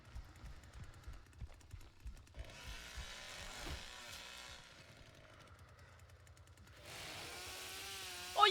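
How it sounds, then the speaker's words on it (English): A revving chainsaw thrust in The Texas Chain Saw Massacre video game, a rasping buzz that swells mid-clip and returns loud near the end, with low pulsing game engine rumble throughout. "Oh, you can thrust the chainsaw!"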